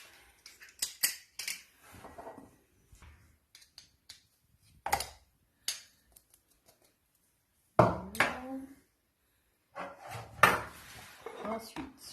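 Sharp, scattered clicks and scrapes of a knife and utensils against a plate or board while garlic cloves are prepared for maakouda, close by, in uneven bursts with short pauses.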